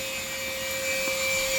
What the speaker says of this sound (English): No, somebody doing a vacuum over there